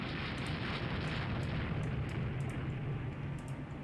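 Naval guns fire in the ship-combat game Rule The Waves 2, a continuous rumbling barrage of deep booms and blasts rolling on without pause, with no talk.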